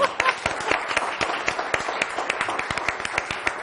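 Studio audience applause on a Turkish television word-game show: a short burst of close, crisp clapping from many hands, fairly dense and even throughout.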